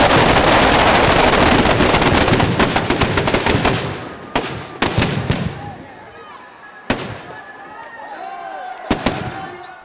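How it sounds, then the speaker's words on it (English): Ravana effigies packed with fireworks explode across a city at night: a dense, continuous barrage of loud crackling blasts at first, thinning into separate sharp bangs and distant pops with whistling rockets, with crowd voices in the background. "Hundreds of Ravanas and his brothers blow up one by one all over the city."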